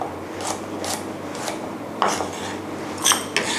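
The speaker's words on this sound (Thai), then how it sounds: "ตามด้วยกระเทียมนะคะ ก็ หั่นให้ชิ้นเล็กลงค่ะ" A knife chops garlic on a cutting board in several separate strokes, sharp scraping taps at an uneven pace, close and fairly quiet.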